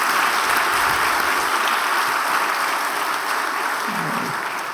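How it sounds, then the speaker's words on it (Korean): A church congregation breaks into sustained, dense applause for the full few seconds, a steady wash of many hands clapping together in a large room with faint voices underneath. "하나님께 영광의 박수 올려드리겠습니다."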